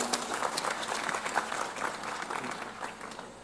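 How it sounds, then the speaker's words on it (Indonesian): An audience at an Indonesian religious gathering breaks into a full round of clapping, dense and continuous from many hands, steady in level and filling the room without speech on top. "Tepuk tangan untuk Pak Bupati."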